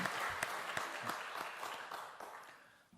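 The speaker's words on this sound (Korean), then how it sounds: "우리 응원의 박수 한번 같이 하겠습니다." A church congregation at a Sunday morning service claps in support, with scattered distinct hand claps over a steady soft wash of applause at a fairly quiet level.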